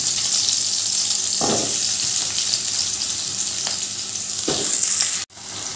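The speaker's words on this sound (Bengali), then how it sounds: "এবার আমি ওই তেলের মধ্যে দিয়ে দিচ্ছি কেটে রাখা আলুগুলো" Cut potatoes fry in hot oil with a steady, loud sizzle that runs the whole time, broken by a few stirring scrapes and a sharp cut-off near the end.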